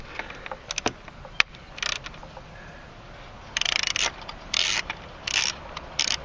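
A hand ratchet turns the distributor cap bolts on a Mercedes-Benz SL500 M119 V8 in short, faint clicking bursts separated by pauses, with one sharp tap near the start.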